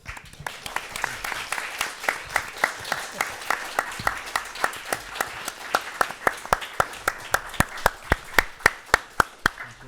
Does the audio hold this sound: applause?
yes